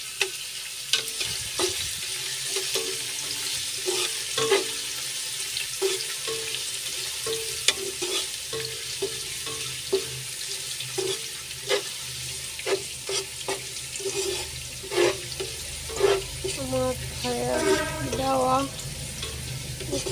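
Onion, bay leaf, cardamom and cinnamon fry in a pan with a steady close sizzle, broken by frequent scraping stirs and light clinks throughout.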